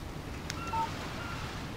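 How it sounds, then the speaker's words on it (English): In the video game Alan Wake, a phone text message alert sounds as a short electronic tone near the middle, faint against a steady background hiss, with no one speaking. "Text message from Barry."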